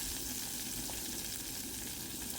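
Eggplant pieces fry in a pan as a brinjal tawa fry cooks, giving a steady, soft sizzle that holds even throughout with no talking.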